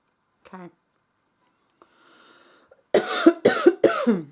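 A few faint clicks and rustles, then a burst of three or four loud, harsh coughs in quick succession close to the microphone.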